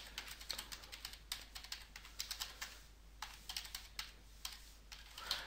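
Fast bursts of keystrokes on a computer keyboard as an account name is typed, quiet and close, with short pauses between runs of clicks and no talking.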